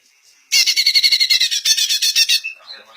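A Cucak Ijo songbird sings a loud, close, rapid trilling phrase of evenly repeated bright notes lasting nearly two seconds, then a few softer calls fade out.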